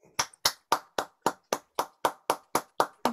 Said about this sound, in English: if we give Nikki and Akanksha a really good round of applause for their first talk.